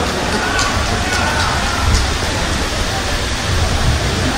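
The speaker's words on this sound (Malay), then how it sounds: "Hujan tuan-tuan tak boleh balik" Heavy rain falls steadily at an outdoor political rally in Kedah, making a loud, dense, unbroken hiss that fills the whole stretch, with a few louder drops and no clear speech over it.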